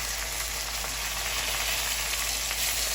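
Taco meat seasoned with onion, garlic, chili powder and black pepper sears in a hot pan, giving a steady, loud, close sizzle that holds evenly throughout with no talking.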